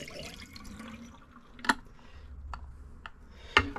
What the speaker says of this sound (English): So we're going to pour the water out.